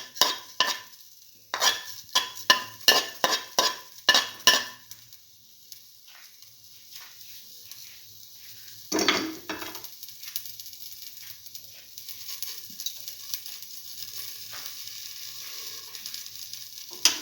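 Fenugreek and fennel seeds hit hot oil with a burst of sharp crackling pops over the first few seconds, then a quieter continuous sizzle with an occasional stir or clink.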